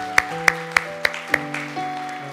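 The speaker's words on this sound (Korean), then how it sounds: "우리 하나님 앞에 감사의 박수 다시 한번 올려드리도록 하겠습니다" Evenly spaced sharp claps, about five in a steady beat, over a held organ-like chord in a church service; the clapping fades and the music carries on alone.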